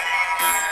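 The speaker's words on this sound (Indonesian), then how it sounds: "Ini ada suara alien." A synthetic alien voice changer effect, a processed tone that shifts abruptly partway through, brief and moderately loud with no natural speech.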